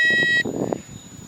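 A Hubsan H216A drone's remote control switching on gives a steady electronic beep for under half a second, then cuts off, leaving faint handling clatter.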